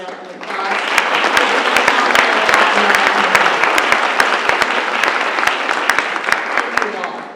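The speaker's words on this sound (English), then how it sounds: "Let's please give all our award winners today another round of applause." A luncheon crowd at a legal-aid awards ceremony claps for the award winners, a dense steady round of applause that swells quickly and holds, with some voices mixed in.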